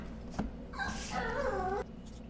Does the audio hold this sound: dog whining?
yes